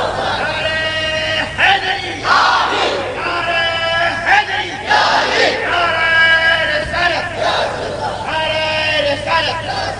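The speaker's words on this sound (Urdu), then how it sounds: "ماشاءاللہ مولا علی کا نعرہ لگتا ہے نا تو الگ ہی ماحول بنتا ہے" A large crowd at a religious gathering chants the Mola Ali slogan in loud, rhythmic call-and-response waves, with a leader's voice alternating with many voices roaring back together.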